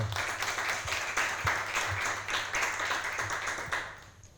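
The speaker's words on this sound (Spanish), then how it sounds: "pido un fuerte aplauso" Audience applause in a university lecture hall, with many hands clapping in a loose rhythmic pulse that holds steady before fading at the end.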